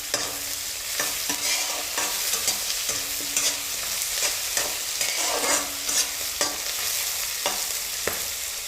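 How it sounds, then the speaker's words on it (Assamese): Onions frying with bay leaf in a pan for an Assamese-style mutton curry, a steady dense sizzle with regular scraping stirs of a spatula, close and continuous with no voices. "পিঁয়াজ ঢালাৰ পিছত অকণমান ৰঙা কৰিবলৈ দিম।"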